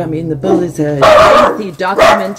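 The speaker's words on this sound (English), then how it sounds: "Just excuse my dogs." Dogs bark and yip several times in short bursts close by, breaking through over a voice as he keeps speaking.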